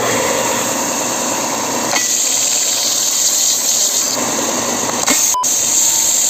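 A wooden puzzle piece is smoothed on a sander, a steady loud whirring hiss with brief changes in tone as the wood presses against it, continuous throughout.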